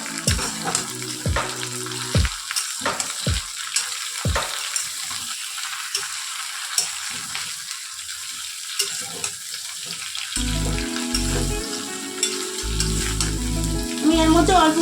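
Ridge gourd and potato fry together in a pan with a constant close sizzle, broken by sharp knocks and scrapes of stirring and heavier clattering bursts toward the end.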